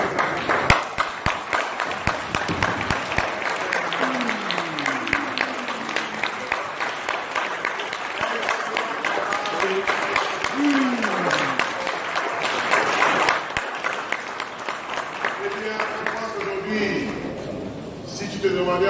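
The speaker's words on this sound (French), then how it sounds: "Est-ce qu'on peut se lever et applaudir Charles pour ce" A church congregation stands and applauds during a combined Sunday service, sustained mixed clapping with cheers and occasional voices calling out over it, lasting many seconds before tapering slightly near the end.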